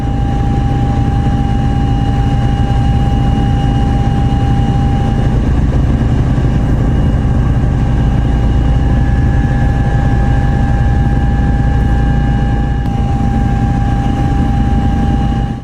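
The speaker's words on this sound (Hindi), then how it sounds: "गृह मंत्री अमित शाह आज हेलीकॉप्टर से पहुंचे।" A helicopter carrying a government minister arrives at Hingalganj, its engine and rotor producing a loud, steady low drone with a constant high whine, unbroken for the whole stretch with no speech.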